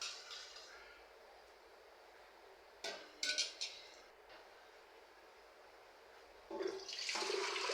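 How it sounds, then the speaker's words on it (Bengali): Washed lentils go into a pressure cooker in a home kitchen, with a few sharp metal clanks of pot and lid, then a louder rush of running water near the end. "ডালটা আমি প্রেসার কুকারে বসিয়ে দিব।"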